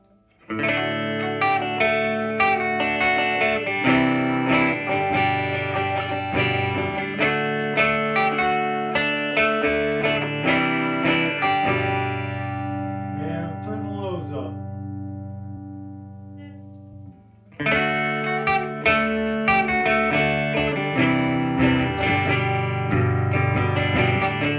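Electric guitar on the neck pickup played through a Crate Power Block amp with distortion and the highs turned up, loud sustained chords and riffs that stop briefly, ringing out, then resume.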